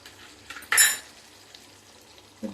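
A spoon scrapes and clinks against a pot of potato and eggplant curry seasoned with garam masala, one sharp loud scrape near the start and a brief clink at the end over a faint simmer.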